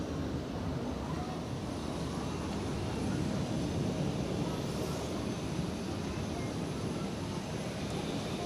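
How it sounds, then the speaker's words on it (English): An airliner departs from the cross runway at Zurich Airport, its jet engines producing a steady, broad distant roar that swells slightly mid-way, with no voices. "We're going to get a cross runway departure"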